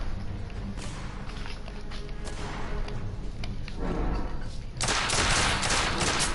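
Gunfire in Red Dead Redemption, a run of sharp loud shots and bursts, some rapid, with a denser volley toward the end.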